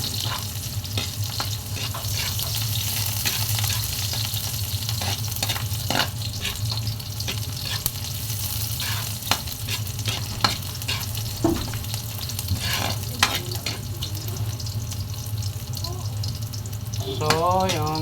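Ginger and onion sizzle steadily in a hot pan for adobong pusit, with occasional spoon stirring and scraping, a continuous close frying hiss throughout.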